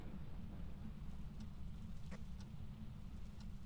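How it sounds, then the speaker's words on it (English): Steady rain pours over the scene of a lightning storm in the Phasmophobia video game, with low rumbling thunder underneath and a few sharp crackles, loud and continuous throughout. "Oh, that was lightning."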